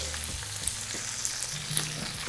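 Spinach sizzles and crackles in olive oil in a pan, a steady close frying hiss with small pops as it is stirred around.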